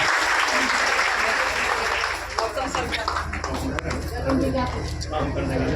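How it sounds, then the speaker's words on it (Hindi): Applause welcoming an honoree at an anganwadi workers' meeting in Fatuha, a crowd's clapping under a persistent low hum, turning sparser and more scattered after the opening seconds. "तालियों से एक बार स्वागत किया जाए इनका।"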